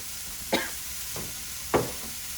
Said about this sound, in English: I use my stir stick